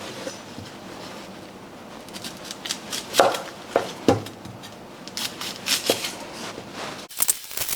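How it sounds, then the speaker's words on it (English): A knife chops an onion on a cutting board in a series of faint, irregular taps and crisp cuts, quiet in the kitchen with no talk. "First step is let's chop our onion."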